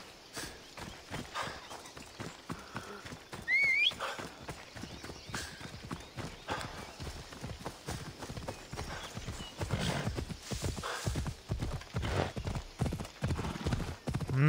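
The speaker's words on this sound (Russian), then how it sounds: "На лошади мы быстро преодолеем данную территорию." Horse hooves clip-clop steadily at a fast gait in Assassin's Creed Odyssey, a continuous rhythmic patter close by, with a brief whinny and light ambient game sound.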